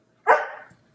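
A single sharp dog bark, fairly close and loud, trailing off quickly, heard in a home kitchen with no talking.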